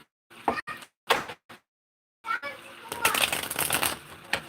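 Tarot cards shuffled by hand: a few separate sharp slaps and riffles with short pauses between, then a denser, louder stretch of continuous shuffling close by.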